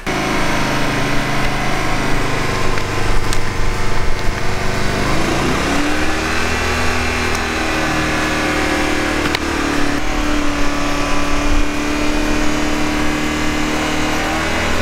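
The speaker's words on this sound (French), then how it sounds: "On va tester avec la pince." A hydraulic road-rescue extrication cutter runs steadily with a loud, continuous droning hum from its power unit, the pitch shifting slightly partway through as the tool works during a rescue challenge.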